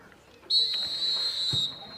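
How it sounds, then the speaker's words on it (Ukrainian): A referee blows the starting whistle at a Ukrainian second-league football match: one loud, sustained shrill blast lasting over a second, heard over faint crowd murmur. "Пролунав стартовий свисток від Віталія"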